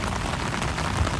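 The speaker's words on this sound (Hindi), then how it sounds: "क्योंकि बारिश है, जिसकी वजह से पानी के शोर की वजह से आवाज़ बहुत कम होगी।" Heavy rain pours steadily during a downpour in Karachi, a dense, even wash of hiss and patter with no voices.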